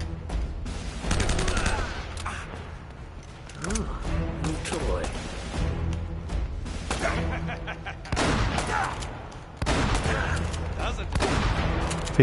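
Gunfire in the video game Uncharted comes in loud rapid bursts and sustained volleys with mechanical clatter, broken by short lulls, and a voice talks over parts of it.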